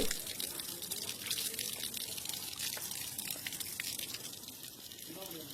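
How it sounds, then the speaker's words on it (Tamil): Water trickles through a rock crevice into a sacred pond on a hillside, a faint, continuous splashing patter with scattered drips and no speech over it. "இந்த மாதிரி பாறை இடுக்கு வழியாக தான் இந்த தண்ணி இந்த தீர்த்தத்துக்கே வருது"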